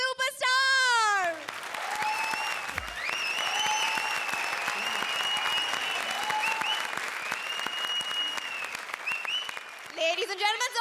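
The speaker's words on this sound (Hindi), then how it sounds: "Ladies and gentlemen, a big applause for Comedy Circus के सबसे बड़े सुपरस्टार।" An audience at a comedy show claps steadily for about nine seconds, dense and even, while a host's voice speaks loudly over the start and end of the applause.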